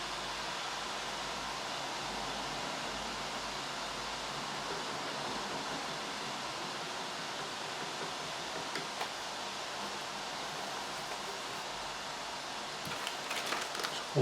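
A paint factory across the road gives off a steady, broad hiss, even and unbroken throughout, with faint rustling near the end and no voices.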